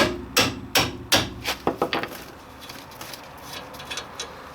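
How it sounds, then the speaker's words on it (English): Three loud, sharp hammer strikes driving a 17 mm bolt through a 2002 Mitsubishi Lancer's suspension, then several lighter taps that fade into quiet workshop ambience. "Just gonna hammer this through."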